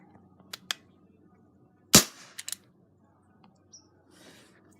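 A pistol fires one loud, sharp shot at close range in an outdoor setting, with a brief ringing tail and a few quieter mechanical clicks before and after.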